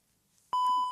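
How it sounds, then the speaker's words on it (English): A screen reader gives a single clear electronic beep as it switches to desktop mode, a sharp steady tone that starts suddenly after brief quiet and holds to the end. "you'll hear I've got the beeps as we're switching over to the desktop side of things"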